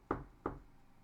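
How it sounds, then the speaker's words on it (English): Two sharp knocks on a door, close and distinct, spaced about a third of a second apart in a quiet room. "a rasping at the door."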